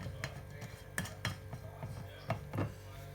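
A protein salad is tossed in a bowl, and a utensil lightly taps and scrapes against the dish in a few faint, irregular clinks over quiet room tone.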